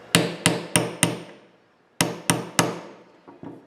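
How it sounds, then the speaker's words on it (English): A hammer sets a nail into a wooden window screen frame with a run of sharp, ringing blows, four quick strikes, a pause, three more, then two softer taps, close and alone. "I'm going to go ahead and set that nail too, just a little bit."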